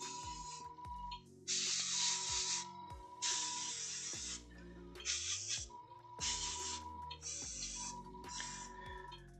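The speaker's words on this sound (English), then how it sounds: "the thing I like about airbrushing it is you get into all the nooks and crannies" An airbrush sprays paint onto a Warhammer 40k miniature in a series of loud hissing bursts, each lasting about a second, with short pauses and faint clicks and hum between them.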